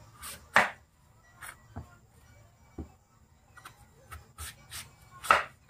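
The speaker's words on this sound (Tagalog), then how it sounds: "So yun mga kagre, hiwain na natin." Knife slicing vegetables on a cutting board while preparing a Filipino dish, a sparse, irregular series of crisp chops and taps, close by and moderately loud, with quiet gaps between cuts.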